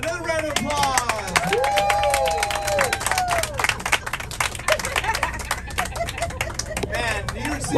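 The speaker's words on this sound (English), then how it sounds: "Another round of applause." Applause from an audience on a bus tour in Times Square, scattered clapping under lively chatter and shouting voices throughout.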